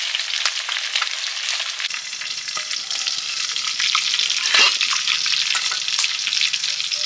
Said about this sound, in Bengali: এই যে পটকাগুলো আছে ফাটছে, এই জন্য সাবধানে ভাজতে হচ্ছে।